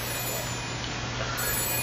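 A telephone rings in the video game This Is the Police 2, a continuous electronic ring over a steady background hum, moderately loud and with no talk over it.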